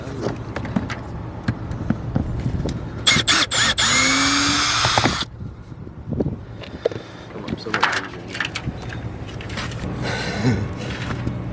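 A power drill drives screws into an RV roof vent during a roof vent replacement, a loud whining burst of a few seconds, with shorter bursts and clatter before and after, and people talking throughout.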